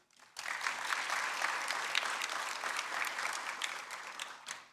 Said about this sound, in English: One more time, a big round of applause to Dr.